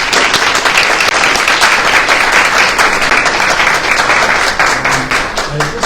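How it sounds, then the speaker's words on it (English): An audience applauding at a school board of education meeting, sustained loud clapping from a crowd, close and dense, tapering slightly toward the end. "Let's give them a round of applause."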